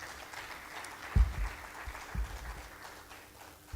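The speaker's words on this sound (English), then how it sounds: "I think he deserves another round of applause." A burst of applause from a conference audience after a keynote, clapping swelling and fading in a few waves, fairly soft and distant in a large room.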